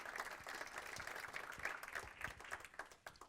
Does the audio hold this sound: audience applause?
yes